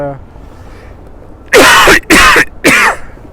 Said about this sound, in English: Sorry about the cough, people, but I'll try and get through this vlog